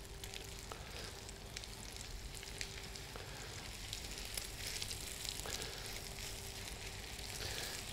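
Haddock fillets fry in foaming butter, a soft continuous sizzle and crackle with small pops, fairly quiet and steady throughout.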